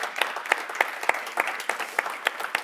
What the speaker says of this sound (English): a big applause for this great panel.